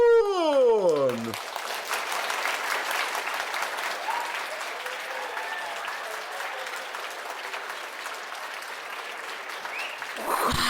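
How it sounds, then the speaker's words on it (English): Studio crowd cheering and applauding loudly for a podcast guest's introduction, a sustained roar of clapping and whoops following a brief rising electronic sweep, with a faint voice near the end. "The crowd goes wild."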